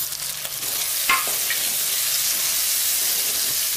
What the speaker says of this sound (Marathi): फ्लेमवर ठेवून हा सगळा मसाला मी परतून घेणार आहे